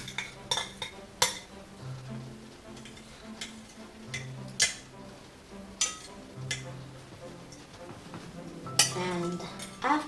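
Milk whisked for homemade ice cream in a bowl, brisk irregular clinks and taps of utensil against bowl, close and fairly quiet, with a faint low voice in the background.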